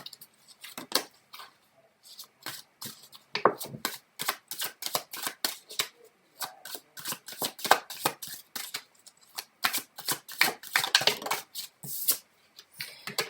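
Tarot cards being shuffled nearby in quick, crisp riffling bursts and slaps, repeated irregularly for several seconds with short pauses between, with no talking.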